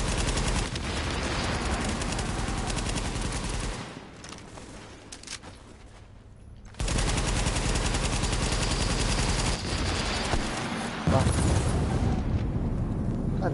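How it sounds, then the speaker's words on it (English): Combat in the video game The Division, with dense gunfire bursts and explosion booms filling most of the clip, a sudden quieter gap, then heavy firing and a grenade blast resuming loudly. "Grenade!"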